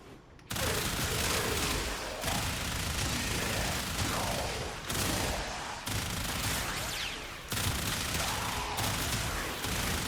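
Rapid, sustained weapon fire in the video game Warframe with a boosted fire rate, a loud continuous stream of shots broken by a few brief pauses, with no talking.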